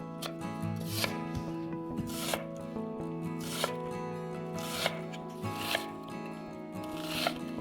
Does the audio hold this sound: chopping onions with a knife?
yes